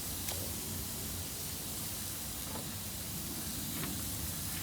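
Tri tip beef roast sears directly over hot charcoal on a Weber grill, giving a steady, even hiss of sizzling fat with a few faint pops, constant and fairly quiet throughout.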